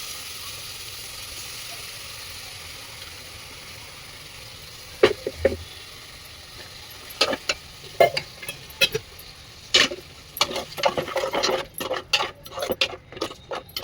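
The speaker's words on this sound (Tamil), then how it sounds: "கொஞ்சம் எண்ணெயோட வதங்க, அப்போ அந்த தக்காளிலாம் மசியும், பச்சை வாசனை போகும் கொஞ்சம் நேரம்." Ground masala and tomatoes sauté in oil for thoothuvalai rasam, a soft low sizzle that is quiet at first, then increasingly frequent scraping and clinking stirs of a spoon against the pan.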